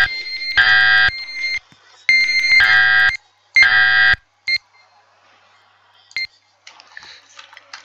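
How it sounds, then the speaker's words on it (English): An ADT alarm panel in a Roblox fire alarm inspection game beeps loudly: three long tones, then shorter chirps trailing off, with no talking. "that ADT alarm kept beeping every minute because I was standing in front of the sensor"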